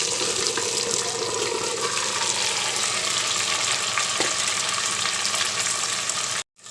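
Chicken tipped into a pan of fried onions, sizzling loudly and steadily with a dense broadband hiss; the sound cuts out abruptly near the end.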